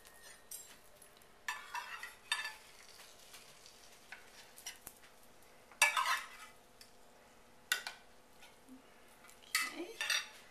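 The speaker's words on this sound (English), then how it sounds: "And I'm going to put it on a tray." A baked stuffed acorn squash dish is set onto a tray with several close clinks and scrapes of cookware, spaced among quiet kitchen background.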